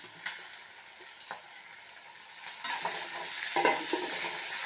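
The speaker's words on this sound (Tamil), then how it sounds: "இதோட இந்த கருவேப்பிலை கொத்தமல்லியை சேர்த்துடலாம்" Curry leaves and coriander go into a frying pan for Kongu-style dal curry, and a spoon stirs with scraping sounds as the oil sizzles close up, the sizzle growing louder toward the end.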